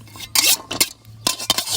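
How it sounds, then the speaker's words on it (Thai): Heavy metal clanks and scrapes of a wok being set down and shifted on a stove, a few loud bursts with short pauses between. "ตอนเราไปตั้งกระทะแล้วนะครับ"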